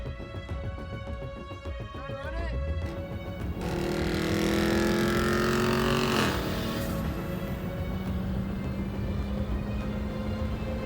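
First-generation 1997–2001 Honda CR-V RD1 built into an AWD sleeper, engine droning steadily and loudly, rising in pitch as it accelerates and then holding a sustained high tone, with a faint voice underneath.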